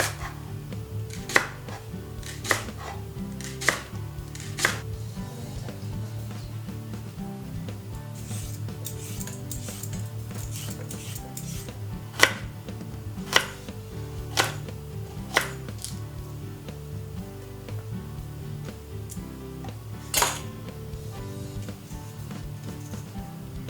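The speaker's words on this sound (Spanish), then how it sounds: "Una vez que está limpio, lo cortamos en trozos." Cleaned leek chopped into pieces with a knife on a board, sharp irregular thunks spaced a second or more apart over a quiet background, close by, with no talking.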